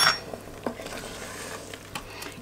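Spoon stirring paprika, coriander and cumin into lamb in a pressure-cooker pot, a few close metallic clinks and scrapes against the pot, the first one loudest, with no talking.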